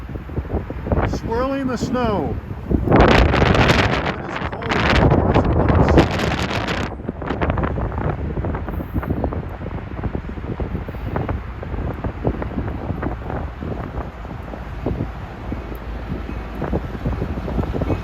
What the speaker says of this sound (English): Swirling the snow.